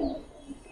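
A Pakistani-line male pigeon gives a brief, soft, low coo at close range in a quiet setting.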